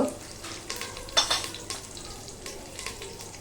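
Curry leaves and asafoetida hit hot oil in a pan, giving a burst of sizzling and crackling with spoon-stirring scrapes that soon settle into a lighter sizzle, with no talking.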